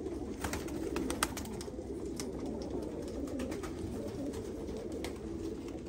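Fancy pigeons coo softly and repeatedly, several birds layered over a steady background hiss with occasional sharper calls and clicks.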